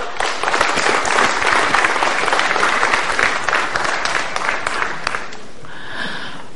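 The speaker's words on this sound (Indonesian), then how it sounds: "saya minta aplaus sekali lagi untuk sahabat saya" A studio audience on an Indonesian TV talk show claps in loud, sustained applause for several seconds, then it dies away abruptly near the end.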